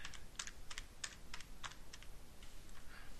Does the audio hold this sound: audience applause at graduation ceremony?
no